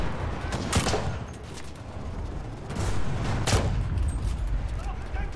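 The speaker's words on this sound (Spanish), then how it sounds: "Ya me disparan" Gunfire in the World War II shooter Enlisted, Normandy invasion: scattered bursts and sharp shots crack over a rumbling battlefield bed of distant explosions, with a few prominent louder reports.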